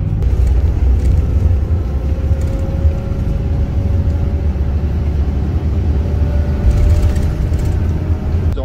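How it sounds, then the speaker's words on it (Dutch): A bus travelling out of Bangkok, heard from inside as a steady, loud low engine drone and road rumble that runs unbroken from start to finish, with no talking. "Ik ga nou met de bus."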